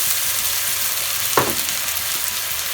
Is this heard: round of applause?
no